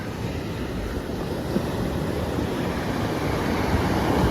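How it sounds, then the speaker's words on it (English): Ocean surf at Austinmer Beach north of Wollongong, Australia, a steady dense roar of breaking waves with some wind buffeting the microphone and no voices. "Today we're visiting Austinmer Beach, just north of Wollongong."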